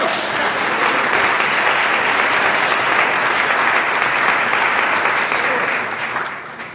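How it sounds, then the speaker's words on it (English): An audience at a community bike-trail storytelling event claps hands in loud, sustained applause, a thick continuous patter of many hands that holds steady for about six seconds before tapering off at the end. "Maybe we'll clap our hands."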